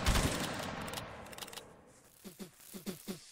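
Musket volley fire in a multiplayer video game: a loud crackling burst of massed shots at the start that fades over a second or so, followed later by a few short sharp cracks.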